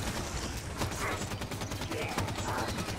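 Gunfire rattles through a firefight in the video game Halo 5: Guardians, with sharp repeated shots in irregular bursts over a dense, busy game mix.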